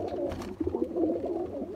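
Golden red-eyed pigeons cooing in soft, repeated low throaty calls, close by, with no voices.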